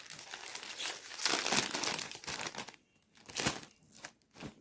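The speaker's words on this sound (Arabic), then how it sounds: "نفتح الكيس رقم 6" A plastic snack bag from a carton of Lulu Puffs snacks crinkles and crumples up close in bursts, with short pauses between the rustles as it is opened.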